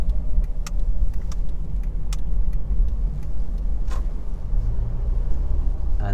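A car slows for traffic on a driving test route in Bletchley, Milton Keynes, heard from inside as a steady low engine and road rumble with a few light clicks and rattles.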